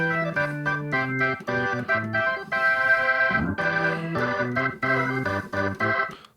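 An organ layer in a MainStage 3 keyboard patch for "I Want You Back", playing alone: sustained chords and a bouncing bass line in a choppy rhythm, with one held chord in the middle.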